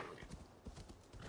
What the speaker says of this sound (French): Pourquoi mon cheval il ronfle comme ça?